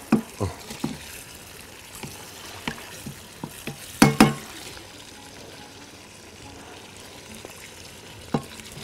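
Kidneys frying and being stirred in a pan, with soft sizzling beneath a series of sharp utensil scrapes and clacks, a loud cluster of knocks near the middle, and a murmur of voices in the background.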